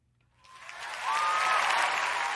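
An audience bursts into applause that swells within a second and keeps going as steady, close clapping until the end.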